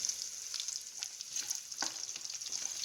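A bright, hissing sizzle of spices tempering in hot oil for a turnip curry, fairly quiet and close, with a few soft clinks and no speech.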